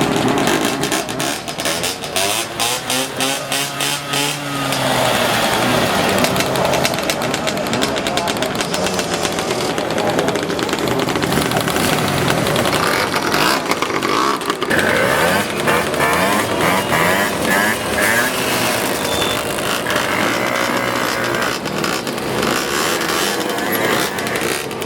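A motorcycle running rough because of a missing idle screw protrusion pulls away and keeps riding, its loud, uneven engine drone rising and falling continuously, close to the microphone, alongside other bikes on a group ride.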